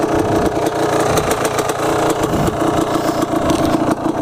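A motorcycle in neutral idles loudly and close, with an uneven, rapid pulsing putter and small throttle blips throughout, set on an off-highway vehicle trail.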